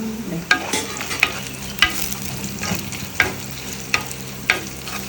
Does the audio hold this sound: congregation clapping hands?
no